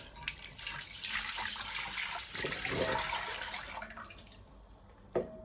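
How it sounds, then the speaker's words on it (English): Coconut milk pours into a cooking pot for Jamaican stew peas with salted and fresh beef, a continuous splashing, gurgling liquid stream heard close up, ending with a short clack. "So now I'm going to be pouring my coconut milk"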